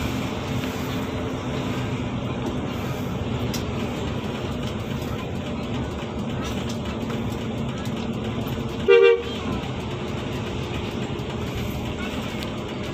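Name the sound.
bus horn honking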